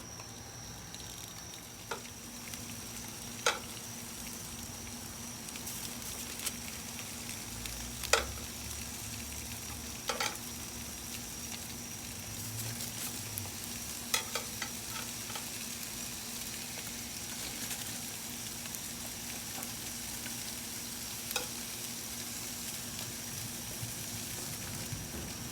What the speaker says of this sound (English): We're going to go ahead and put the kebabs right on here on our tin foil.